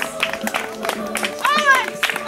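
Scattered clapping from an audience at an outdoor theatre performance of Skroderdienas Silmačos, bursts of hands under loud shouting and voices, with a high whistle-like tone sweeping briefly.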